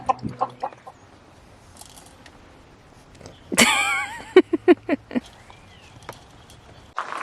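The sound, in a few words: chicken clucking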